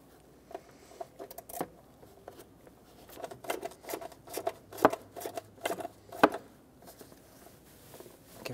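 Small clicks and scratchy taps as a coarse-threaded securing screw is turned back into the plastic housing of a MAP sensor on a 2014-2021 Mazda 6, close up and intermittent, with a couple of sharper clacks.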